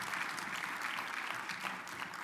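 Conference audience applauding sponsors and a board of directors at a legislative summit keynote, a brief, steady round of clapping that fills the whole short stretch.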